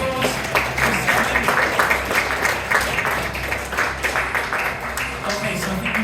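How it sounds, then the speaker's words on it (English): An audience at a live comedy hypnotist show applauds steadily, a dense wash of clapping that carries on at an even level throughout. "give these guys a massive round of applause"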